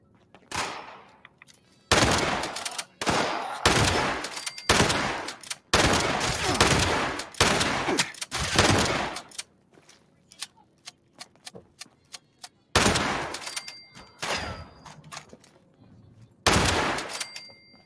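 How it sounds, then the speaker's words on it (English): Long-barrelled shotgun firing in Fallout 76, heavy booming blasts in a loose irregular series, several close together then spaced out, loud and near with quieter stretches between bursts. "Love the shotgun. I love that I put a long barrel on it too."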